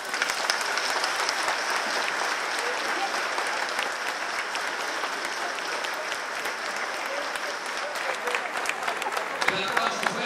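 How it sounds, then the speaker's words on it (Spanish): Loud, warm applause for María José Soledispa fills a hall with a dense, steady wash of many hands clapping. It holds at full strength for ten seconds with no letup. "Un aplauso fuerte, caluroso para ella, María José Soledispa"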